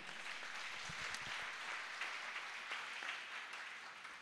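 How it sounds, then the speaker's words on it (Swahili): A church congregation claps together in praise during a sermon by Rev. Christine Mwarandu, a steady, fairly distant wash of many hands lasting a few seconds. "Shangilia Bwana Yesu kwa makofi."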